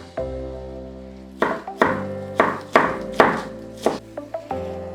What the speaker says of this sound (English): I really like to chop the onion like big chefs, like chop, chop, chop, chop, chop